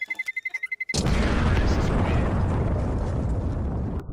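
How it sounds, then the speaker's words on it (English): A sandbox tree seed pod bursts like a grenade and flings its seeds. After a short stretch of pulsing sound, a sudden loud explosive blast erupts and rushes on as sustained noise for about three seconds. "the whole thing explodes like a fucking frag grenade, sending seeds flying up to 240 kilometers an hour"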